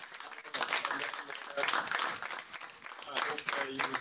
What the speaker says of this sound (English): I would like to give a big round of applause again to the wonderful speakers.